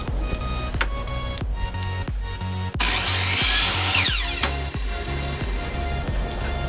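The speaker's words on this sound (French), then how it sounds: "je vais juste le passer sur la scie anglais pour le mettre vraiment droit" A power saw cuts a piece of wood straight, its motor whining steadily close by while sharp, repeated bursts of rasping cuts and thuds break in at a fairly regular rhythm, loudest in the middle.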